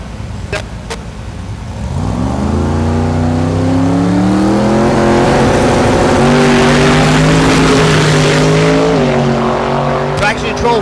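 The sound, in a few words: drag racing car making a 7-second pass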